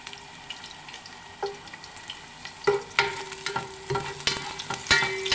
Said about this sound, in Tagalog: ginisa ang sa bawang